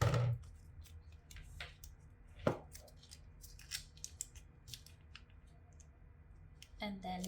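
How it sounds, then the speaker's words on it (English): Adhesive vinyl being scraped onto a Christmas ornament from both sides, heard as faint, quiet scratchy strokes and small clicks spaced irregularly in a still room. "place the vinyl. Scrape it from both sides"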